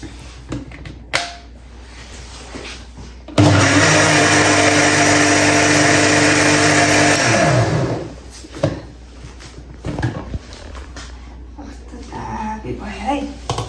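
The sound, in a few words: blender grinding a smoothie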